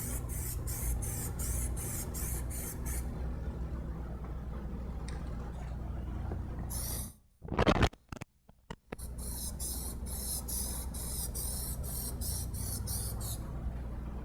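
Aerosol spray paint hissing onto car emblem rings and a front grille, delivered in a run of short rhythmic bursts, then a steadier spray with a brief pause partway, close and alone with no talk.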